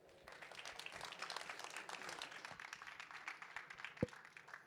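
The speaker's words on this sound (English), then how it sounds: "give a round of applause" Applause from an audience for speakers at a tech panel in Barcelona, scattered moderate clapping in a room with one sharp louder clap near the end.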